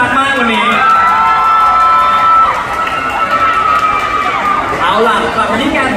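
Fans cheer, shout and clap at a NARS Thailand cosmetics fan event at Siam, a lively crowd din with high-pitched cries close by and a voice talking over it.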